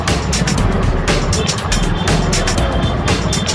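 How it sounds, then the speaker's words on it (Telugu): Busy road traffic with cars and other vehicles, a steady loud rumble with passing engine noise and hiss throughout, voices faintly mixed in. "ఇంత ముందు ట్రాఫిక్ అమ్మ ట్రాఫిక్ ఉంది."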